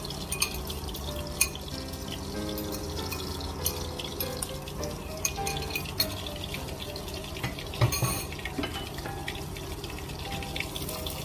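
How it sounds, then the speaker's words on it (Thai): Beaten egg for a Thai omelette poured into a hot pan, giving a steady, continuous wet pouring and frying hiss with small crackles throughout, fairly close and with no talking. "เทไข่ลงไปนะคะในจังหวะนี้เนาะ"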